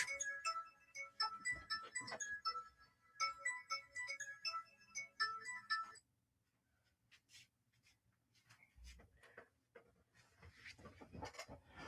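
A phone ringtone on a cookbook-stand livestream plays as a bright, repeating electronic melody for about six seconds, loud and clear, then cuts off abruptly, leaving faint room noise and scattered soft handling sounds.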